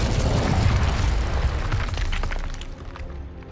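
Incendio fire spell in Hogwarts Legacy: a loud, roaring burst of flame with crackling and booming texture, strongest at first, then decaying over the next few seconds.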